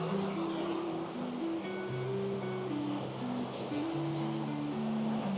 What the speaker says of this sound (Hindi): पानी का फ्लो देखिए कितना तेज है